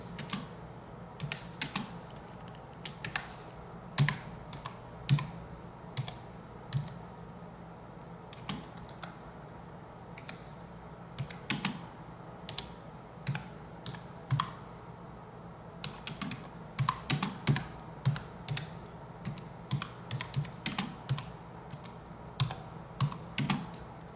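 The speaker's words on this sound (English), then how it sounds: "And I'm going to type slow" Steady, unhurried typing on a computer keyboard, with individual key clicks and occasional heavier keystrokes falling in uneven bursts over a quiet room background, close and clear with no talking.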